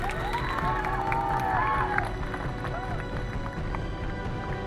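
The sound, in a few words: students clapping loudly at farewell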